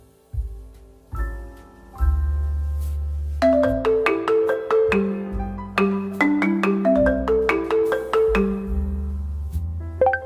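A melodic ringtone plays alone, a phone ringing with a rising run of bright electronic tones that repeat in steady, close, fairly loud phrases, with no voices over it.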